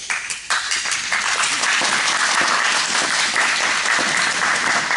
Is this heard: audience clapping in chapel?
yes